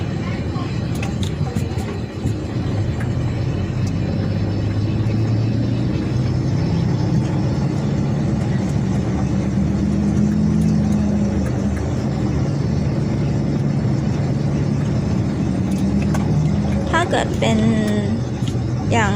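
A fully loaded truck climbing slowly up a mountain road toward Chiang Dao, its engine a steady low drone with traffic rumble throughout, heard from nearby while people talk.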